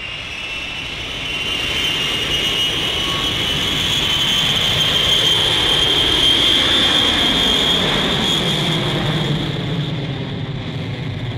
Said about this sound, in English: As the plane leaves the earth